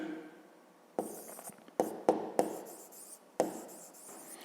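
Pen writing an answer in a school maths notebook, a few short bursts of scratchy strokes separated by brief pauses, close and fairly quiet with no voices.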